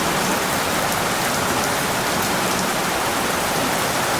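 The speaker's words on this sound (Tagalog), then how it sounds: "Magpapatugtog ako ng heavy rain na music." Heavy rain recording played back as music: a dense, loud, unbroken hiss of downpour with no gaps, no voices and no other sounds.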